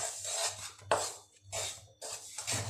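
A singhara (water chestnut) flour mixture for falahari barfi is stirred and roasted in a pan, giving repeated close scraping and rasping strokes in bursts with brief pauses between them.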